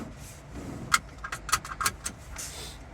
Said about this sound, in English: Take the key, put it into the ignition, on position.